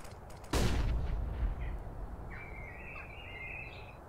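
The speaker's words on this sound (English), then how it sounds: "Throwing flashbang." A Counter-Strike: Global Offensive flashbang goes off with a sudden sharp bang that fades into a decaying rumble, followed by a thin high ringing tone, no talking.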